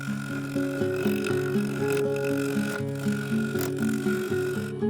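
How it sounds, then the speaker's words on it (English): A wood lathe spins a segmented bowl blank with laser-cut segments at around 800 RPM, giving a steady, continuous motor drone with tonal hum throughout, close and fairly loud. "I fixed the blank to the lathe, wound the speed up to around 800 RPM and set about turning."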